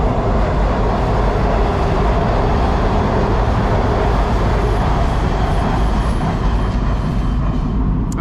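Washington DC Orange Line metro train heard from on board, a loud, steady rumble and roar of wheels and motor that holds without a break from start to finish.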